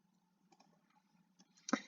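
A computer mouse gives a few soft, isolated clicks in a quiet room, ending with one slightly sharper click, with no talking.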